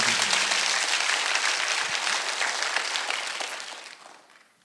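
A church congregation at a Sunday worship service claps in a dense, steady burst that trails off over the last second, with no one speaking over it.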